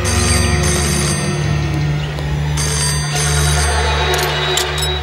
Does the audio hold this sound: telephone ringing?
yes